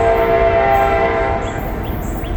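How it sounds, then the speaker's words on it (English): A fast train approaches a level crossing in Carlisle, its horn blaring in a loud sustained chord over the heavy rumble of rolling wheels, close and dominant, with crossing bell tones faintly audible. "Train's coming."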